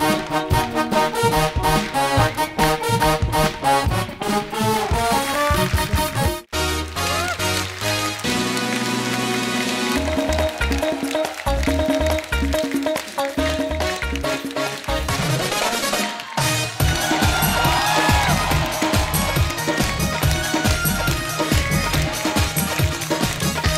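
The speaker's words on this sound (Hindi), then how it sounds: "जोरदार तालियां हमारे सारे मेहमानों के लिए।" Loud, dense applause from a studio audience on a Hindi comedy talk show, filling the room in a steady roar for the guests, with a brief break in the middle before the clapping swells again, no talk over it.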